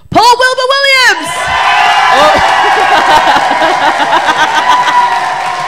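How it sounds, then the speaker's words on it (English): Audience at a competition bursting into sustained applause and cheers for the winner after a brief shouted announcement, a loud, dense clapping crowd with scattered whoops. "Everyone, please continue a round of applause for Matthew McAloon"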